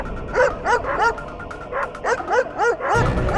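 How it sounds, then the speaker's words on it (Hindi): Several dogs bark and yip in quick overlapping bursts, fairly close and loud, with a whimpering edge, during a courtroom scene in a Hindi crime TV series. "कुत्तों का भौंकना बंद, योर ऑनर।"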